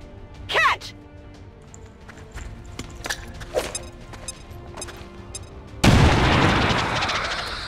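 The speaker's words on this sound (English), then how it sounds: "let's blow up the sectoid's cover with our last grenade" A grenade explodes against enemy cover in the turn-based game XCOM 2, a sudden loud broadband blast that hangs on as rumbling debris, following a stretch of quieter game effects and voice.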